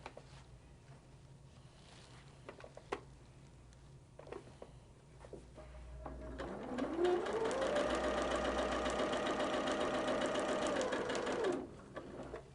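A sewing machine stitches quilt block seams for a Blue Star plain block, revving up into a steady, fast whirring run of about five seconds after quiet rustling, then stopping abruptly.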